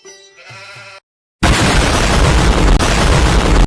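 A loud, sustained explosion sound effect represents a coconut bomb in a Telugu comedy spoof, following a short bleating animal-like sound and a brief silence.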